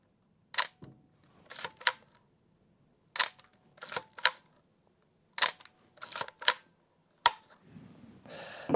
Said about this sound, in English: So very different shutter noises